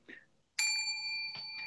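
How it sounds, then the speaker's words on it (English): A hotel service desk bell is struck with a bright metallic ding that rings on, then a second tap follows. A brief faint sound comes just before the first strike. "if you're working at a night shift at a hotel and you hear that bell, or you're working in a store"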